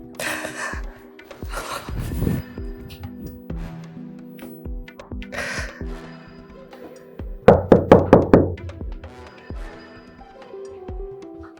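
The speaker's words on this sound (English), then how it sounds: "Who's knocking this early morning?" Rapid knocking on a door in a Nigerian movie scene: a burst of about five loud, sharp raps in quick succession, following quieter shuffling and breathy sounds.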